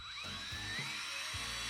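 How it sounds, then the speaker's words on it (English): A power drill bores into a part on a Honda CR250R motorcycle under restoration, whining steadily in short bursts with the motor pitch dipping and recovering several times under load, fairly close. "Now the idea here is just to drill one side"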